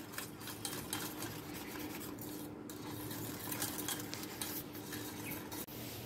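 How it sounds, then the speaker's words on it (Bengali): A spoon stirring mango custard mixture in a bowl, producing continuous soft scraping and swishing with faint clinks, fairly quiet and steady. "খুব ভালো করে মিক্স করে নেব"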